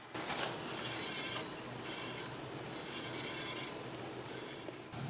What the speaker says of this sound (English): when I spun the front wheel, I heard a constant rubbing